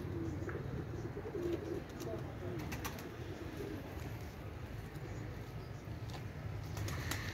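Soft coos of a golden teddy pigeon sitting on a net drift over a steady outdoor background hum, fairly faint and continuous with no clear talking.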